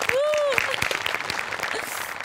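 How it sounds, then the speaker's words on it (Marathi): A burst of studio audience applause on a Marathi comedy show, dense clapping from many hands that carries on steadily, with a brief tonal sound at the start. "आणि विराज बद्दल खरंच कौतुक, त्याच्यासाठी जोरदार टाळ्या."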